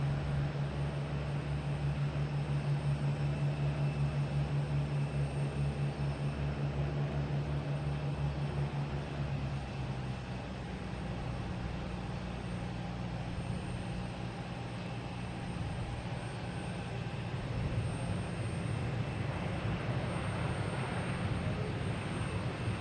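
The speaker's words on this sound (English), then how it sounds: "next we have JetBlue coming in from Raleigh-Durham," A JetBlue Embraer E190 jet arrives at Boston Logan Airport, heard as a steady, distant engine roar with a low drone that eases partway through and then continues as a broad rumble, with no talking.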